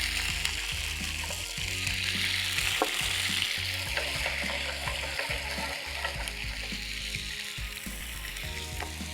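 Soy sauce hits a hot pan of frying garlic, giving a continuous dense sizzle with faint stirring scrapes, steady and close throughout.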